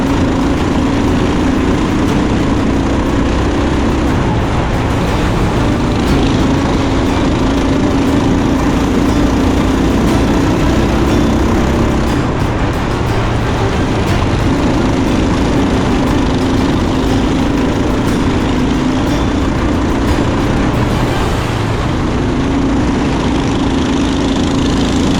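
Several go-kart engines drone steadily throughout a race, a continuous buzzing whine that swells and eases slightly as karts pass, close and loud with no talking.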